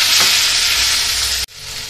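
Chicken masala spices with grated coconut and coriander stirred and roasted in a hot pan, giving a loud close sizzle with scraping stirs that cuts off abruptly near the end.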